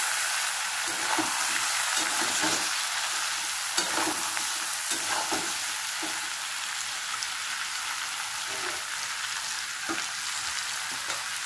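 Tempering spices and turmeric are stir-fried in a pan of hot oil, a continuous sizzling hiss broken by repeated scraping strokes of a spatula, close and fairly loud, with no voices.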